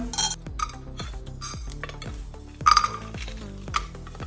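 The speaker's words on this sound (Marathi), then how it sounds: "आता मसाले तळसून घेवया." Spices frying in a spoonful of oil in a pan for an egg masala curry, with a spoon scraping and stirring in a steady rhythm of about eight strokes over a soft, constant sizzle.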